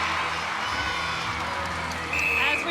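A netball crowd at a Thunderbirds versus Lightning Super Netball match cheers and shouts continuously, a broad roar of voices that swells slightly toward the end.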